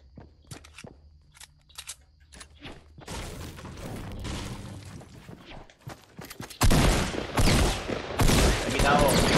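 Gunfire in the video game Fortnite Battle Royale: sparse sharp shots early, then denser bursts of rapid fire growing louder toward the end, mixed with footsteps and thuds.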